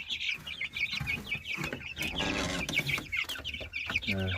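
Chickens clucking continuously up close, overlapping with higher cheeping from chicks, a busy flock chattering without pause.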